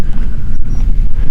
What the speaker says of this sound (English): It's windy and cool up here.